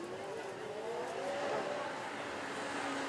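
A McLaren 720S with a V8 engine revs at a supercar event, its steady engine note rising and holding smoothly at a moderate distance, with crowd noise in the background throughout.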